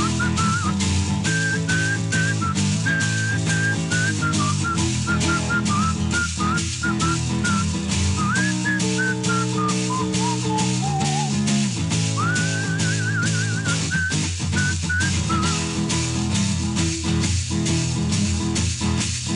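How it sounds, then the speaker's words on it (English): Solo human whistling during an in-studio performance of a rock song, a clear, bright melody of held and sliding notes, loud and close over steady band accompaniment, with no talking. "Solo whistling."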